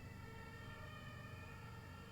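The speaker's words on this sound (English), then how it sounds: "Enough with the sirens." Emergency vehicle sirens wailing outside an open window, a steady distant drone of traffic and siren tones filling the air continuously without any talking.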